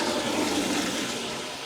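A toilet flushes during bowl cleaning, a steady loud rush of water that holds for under two seconds and eases off slightly toward the end.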